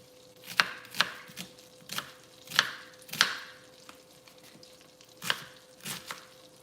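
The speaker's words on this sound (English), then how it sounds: "roughly chop the onion." A knife roughly chopping an onion on a cutting board in a home kitchen, with about ten crisp, uneven chops at close range and a faint steady hum behind them.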